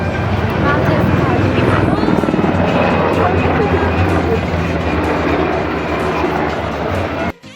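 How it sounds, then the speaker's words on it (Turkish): Helicopters flying an air show display fill the air with a loud, steady, rumbling rotor roar that holds throughout and cuts off abruptly at the end, with voices mixed in. "gösteri yaptıktan sonra helikopterler zeybek oynamaya girişti arkadaşlar"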